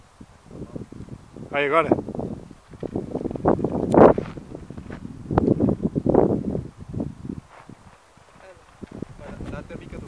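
Strong wind gusting outdoors at a model-aircraft flying field, buffeting the microphone in loud bursts while a person speaks briefly.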